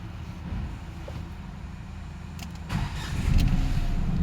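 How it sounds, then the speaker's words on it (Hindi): A Nissan Magnite engine starting after a fuel pump wire was chewed through by a rat. A low, steady idle rumble is followed by a louder surge near the end as the engine catches. "मैं दोबारा इंजन ऑफ करके इंजन ऑन करूँगा।"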